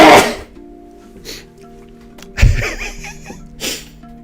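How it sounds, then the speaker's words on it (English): One sharp, powerful sneeze bursts out close and loud, with a few softer breathy sounds before and after and a faint steady hum beneath. "That was a powerful sneeze."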